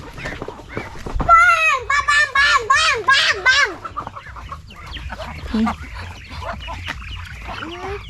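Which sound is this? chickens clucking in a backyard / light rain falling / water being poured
chickens clucking in a backyard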